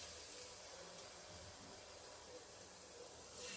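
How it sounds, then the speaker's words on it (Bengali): Potato wedges dipped in flour batter sizzle in soybean oil in a frying pan, a steady, even hiss that holds unbroken and fairly quiet from start to finish. "তারপর এই ময়দার মিশ্রণে আমি একটা একটা করে আলু দিয়ে সয়াবিন তেলে দিয়ে দিব।"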